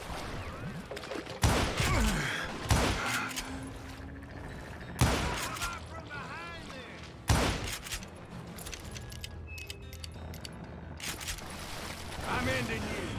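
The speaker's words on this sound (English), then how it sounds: "a fusillade of bullets come raining down from on high" Sharp, heavy gunshots ring out in the Wild West shooter Call of Juarez: Gunslinger, several separate loud cracks spaced a few seconds apart with quieter rattling between, under a man's speech.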